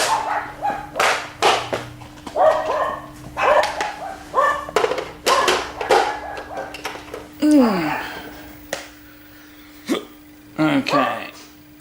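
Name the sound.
small dog barking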